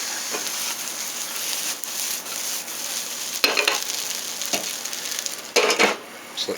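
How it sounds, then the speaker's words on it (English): Rice sizzles steadily in a stainless steel pan with nettles while being stirred, with a few louder scraping and clinking strokes breaking through the constant frying hiss. "So keep it going until it's done with the sizzle."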